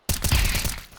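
Rapid automatic rifle fire in a tactical shooter game, a loud burst of closely spaced shots that starts abruptly and tails off within about a second.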